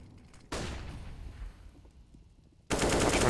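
MP9 submachine gun fire in a Counter-Strike match plays as two loud, rapid bursts, one short and one starting near the end, with quieter game ambience between them.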